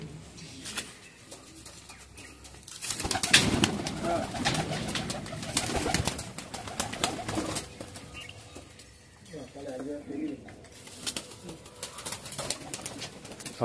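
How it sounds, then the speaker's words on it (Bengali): Kamagar and Golden pigeons, three pairs, coo and flutter close by, with soft repeated coos and occasional wing flaps over a steady background and some talking. "এই 3 জোড়া পায়রা, 6 পিস পায়রা দেখতে পাচ্ছেন"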